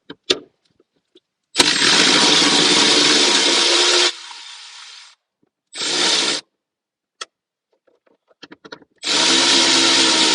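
A power tool drives out bolts on the auxiliary battery of a Mercedes-Benz S550 (W222/W221), running in loud whirring bursts of about two seconds, then shorter spurts, with quiet gaps and small clicks between them.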